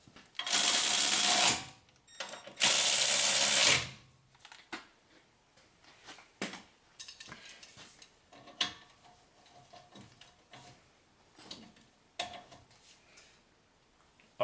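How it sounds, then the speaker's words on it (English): Two loud bursts of a power tool tightening 18mm caliper bracket bolts on a Chevrolet Silverado, each about a second long, followed by scattered clicks and clanks of tools being handled. "So now I'm gonna tighten the bolts for the caliper bracket, and these are 18mm bolts."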